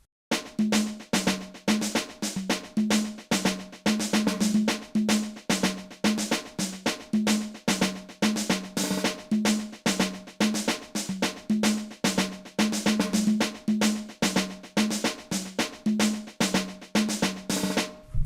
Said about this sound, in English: I got a loose snare here.